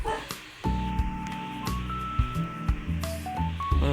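A dog barks in the video game AlphaCraft, with several short yips amid tonal game music and sound effects, fairly loud and close.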